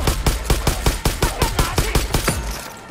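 Rapid bursts of gunfire from the Far Cry New Dawn video game, about a dozen evenly spaced loud shots in quick succession over three seconds, close and punchy with no talking.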